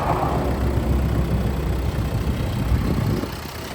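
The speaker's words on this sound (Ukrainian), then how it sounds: "Це мотор D5, нагадаю, D5 повний привід." A 2013 Volvo XC60 with a 2.4 litre D5 diesel and all-wheel drive idles under the open bonnet, a close, steady low rumble that eases a little near the end.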